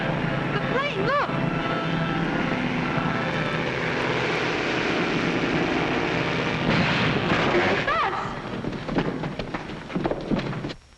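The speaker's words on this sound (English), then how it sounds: "The plane, look!" A propeller airplane drones overhead at a logging site by rushing water, a loud, steady engine roar that swells and then fades as it passes, with shouting voices over it.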